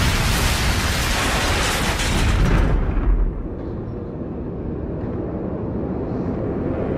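A cartoon explosion in an animated action episode: a loud, roaring blast of dense noise that holds for about three seconds, then drops to a lower, sustained rumble for the rest of the clip.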